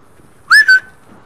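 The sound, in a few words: character whistling to call a dog in GTA 5 video game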